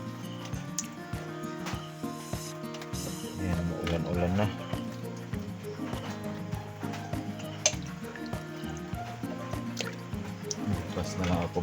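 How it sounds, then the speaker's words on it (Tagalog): Rain dripping at a seaside spot during a crab-catching outing, irregular drops and trickles landing close by in an uneven patter, with some voices and household sounds mixed in. "Ayan, ulan-ulan na."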